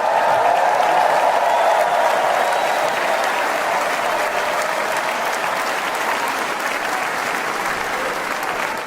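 Dense, sustained applause from a large political convention crowd, loud and steady throughout with a slight fade toward the end, no speech over it.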